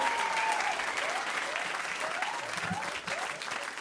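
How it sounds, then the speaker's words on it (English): A crowd claps steadily throughout, warm sustained applause from an audience filling the room. "Big round of applause again for both of these guys."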